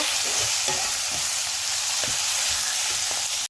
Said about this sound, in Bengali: চিকেন কিমাটা দিয়ে এটাকে হালকা করে ভালো করে মিক্স করব।